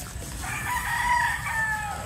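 A Boston Brown Red gamefowl rooster at a game farm in Bulacan gives a single drawn-out crow, clear and fairly near, over a steady low background rumble, with no talking.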